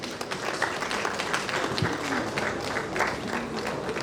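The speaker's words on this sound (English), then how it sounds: "Let's clap hands for them as they come through to take their seating" Audience at an African science and technology forum opening claps steadily as dignitaries walk to their seats, a dense, continuous patter of many hands at even loudness with faint voices underneath.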